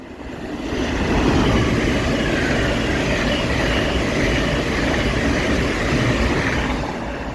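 An LNER Class 801 train passes through Peterborough station bound for London King's Cross, a loud, sustained rumble and rolling roar that swells in and holds steady before easing slightly at the end, with no talking.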